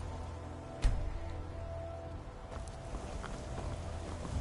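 Horse hooves clopping in Skyrim VR, a soft, irregular clip-clop of a horse turning around, set against a constant low ambient rumble, with one sharp thump near the start.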